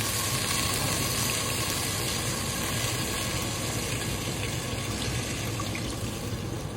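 Water pours steadily into a cooking pot of fried potatoes and pancetta for pasta e patate, giving a constant, full rushing splash that runs unbroken from start to finish with no talk.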